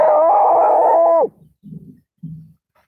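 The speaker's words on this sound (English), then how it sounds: "I hate when people just walk around and leave their dogs all huffing and puffing all the." A dog being walked on a hot day gives a long, loud howling whine, then two short, low huffs or gruff barks with pauses in between.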